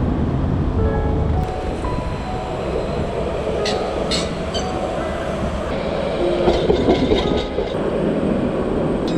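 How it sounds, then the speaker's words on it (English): Trams rumble past close by on a Barcelona street with heavy low clatter, sharp metallic squeals and clicks rising over the roar. "I know the two trams come together here"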